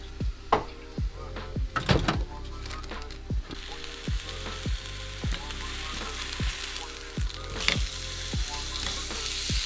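Steak frying in a pan gives a continuous sizzle with close, sharp clatters and knocks from the cookware repeating across the clip; no one speaks.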